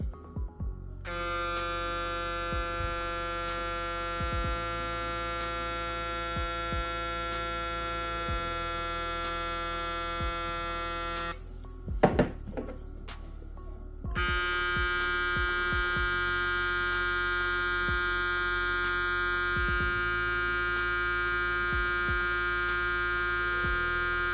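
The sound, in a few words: electric hair trimmer running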